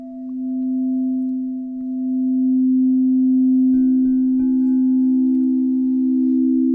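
Frosted crystal singing bowls from a three-bowl harmonic set ring in long, pure sustained tones, one steady low drone joined partway through by a higher bowl, with a few soft taps at the entry.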